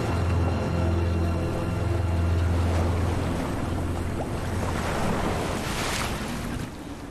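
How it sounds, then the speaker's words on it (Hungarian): Ocean waves and tidal water surging into a small bay, a steady close rush of surf with wind buffeting the microphone and a low rumble, with no one speaking. "A dagállyal a víz újra elönti a kis öblöt"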